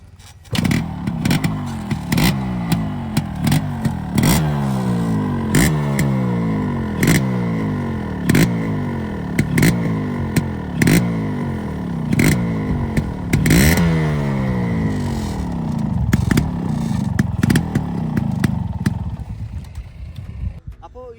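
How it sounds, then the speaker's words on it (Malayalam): A restored Yamaha RX135 two-stroke motorcycle revving repeatedly, its exhaust note rising and falling in a series of sharp throttle blips, loud and close, with clattery engine noise between revs. "നമുക്കിനി ഇതിൻ്റെ എക്സോസ്റ്റ് നോട്ട് ഒന്ന് കേട്ട് നോക്കി നോക്കാം"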